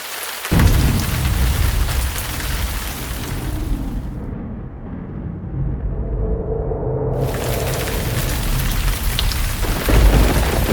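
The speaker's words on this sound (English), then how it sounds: "It's starting to sprinkle a little bit" Rain falls on a lake during bass fishing on Lake Eufaula, a loud, dense patter that continues steadily for the whole stretch with low rumbling underneath.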